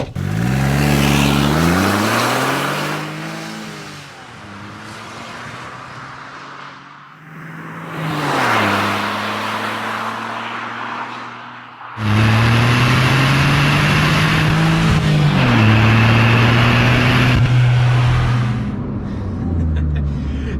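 A Brabus 451 Smart car drives with its engine running, revving through several gear changes in rising and falling sweeps, close and loud, with no talking.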